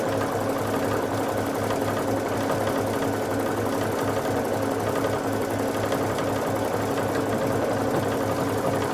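Babylock Crescendo sewing machine free-motion quilting a stippling pattern, a loud, steady, continuous motor hum with a rapid needle chatter throughout.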